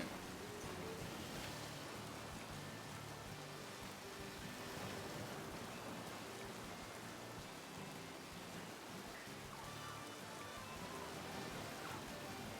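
Rain weather in a Pokémon game gives a steady, soft hiss of falling rain that stays even and faint throughout, with no talking.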